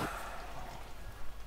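Rainfall in the Farming Simulator 17 video game, a soft, steady hiss of rain on surfaces with faint pattering, heard alone at low level for a brief moment.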